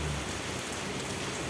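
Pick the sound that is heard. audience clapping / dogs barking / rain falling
rain falling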